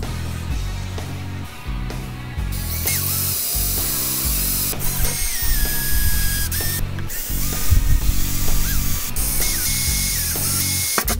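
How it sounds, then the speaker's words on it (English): A power drill fitted with a 1/16 bit bores pilot holes during an AEV snorkel install on a ZR2 Colorado, whining in several close, loud bursts that rise and stop, mixed with clicks and tool handling. "But all these centers with a 1/16 drill bit."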